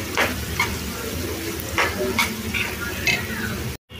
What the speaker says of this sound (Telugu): ఉప్పు కారం వేసుకొని ఒకసారి బాగా కలిపేసుకోవాలి.